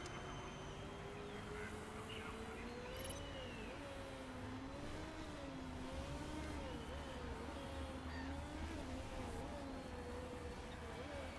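Race car engine in the Motorsport Manager game, set on a Formula 1 track at the Doha Grand Prix, droning steadily with a wavering pitch as the car pulls out onto the circuit, a continuous mid-level hum with low rumble underneath.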